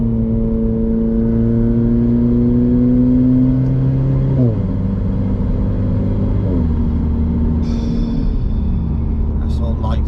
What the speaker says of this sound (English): I can hear the turbo spooling up quite nicely.